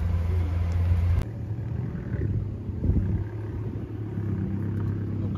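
A Lamborghini Aventador engine just started, a deep, steady rumble with a low roar, loud and close, holding throughout with a slight surge partway through.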